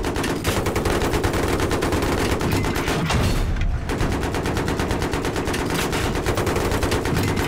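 Heavy automatic gunfire from a tank in Battlefield 3 multiplayer hammers out in rapid, sustained bursts, loud and close, with only a brief gap before the firing resumes.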